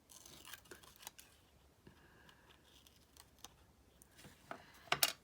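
Scissors snipping around paper shapes for handmade journal buttons, a series of quiet, close, irregular cuts and rustles that builds to a few sharper snips at the end, with no talk.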